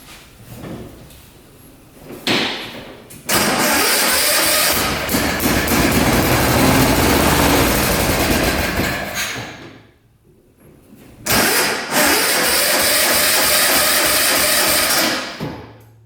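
Engine of a 1960s hydraulic 6x6 tank, long idle, cranking and catching in two loud bursts, each roaring for several seconds before cutting out, with quieter mechanical clunks before the first start.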